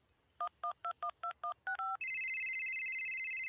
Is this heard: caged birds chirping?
no